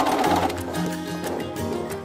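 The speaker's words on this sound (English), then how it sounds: "Do a back stitch at the very beginning." Sewing machine stitching a fabric ruffle sleeve, a steady close whirring hum with a slight rhythmic pulse running throughout, no voices.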